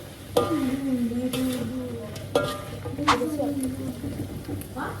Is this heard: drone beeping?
no